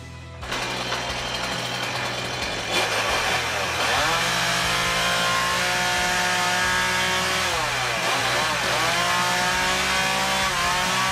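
A Volkswagen Golf Mk3 engine roars loudly and continuously, revving up and easing off in repeated swells, close and dominant throughout.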